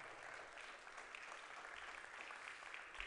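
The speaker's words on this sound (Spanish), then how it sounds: "Dele un aplauso grande al Señor." A church congregation applauds the Lord during a Spanish-language Sunday service, giving a steady, dense wash of clapping from many hands that holds evenly throughout.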